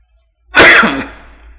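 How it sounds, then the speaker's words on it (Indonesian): One sharp, forceful cough erupts close by, then fades quickly into quiet. "Jadi mohon maaf kalau ada batuk-batuk masih."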